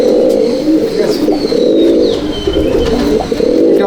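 Malwai pigeons at a loft in Halisahar coo loudly and continuously in overlapping low, throaty rolls, with faint higher chirps above.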